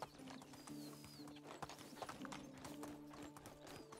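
Hooves of a ridden horse clatter in a quick, steady clip-clop rhythm in the medieval survival game Medieval Dynasty, close and moderately loud, with faint birdsong above a soft background hum.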